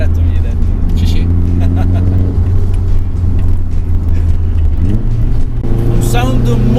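A Nissan Silvia 180SX S13.5 engine runs steadily with a deep, low rumble and a faint turbo whistle, the pitch shifting briefly as revs rise near the end, with people talking over it.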